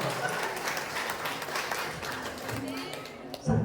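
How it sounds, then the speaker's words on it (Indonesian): A crowd claps for the Al-Hidayah team at a school Islamic quiz final, giving a steady wash of applause that lasts throughout, with voices murmuring underneath. "Tepuk tangan dulu untuk Al-Hidayah"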